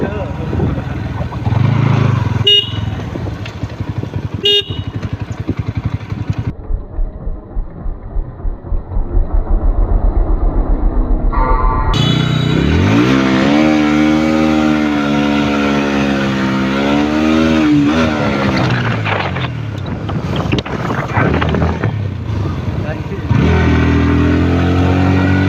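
An NS160 motorcycle ridden along a road, its engine droning and rising in pitch as it accelerates, loud and close with steady wind rush, occasional sharp knocks and gear-change dips throughout.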